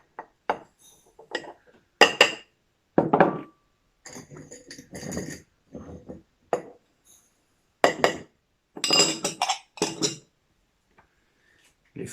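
Sugar spooned into glass jars for a sloe liqueur, heard as a series of sharp, separate clinks and scrapes of a metal spoon on glass, close and clear, with short pauses between them and no talking.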